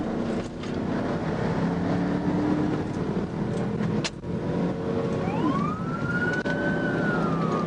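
Police car siren wailing during a high-speed pursuit of a red Ford, rising and falling over road and engine noise, steady and fairly close throughout.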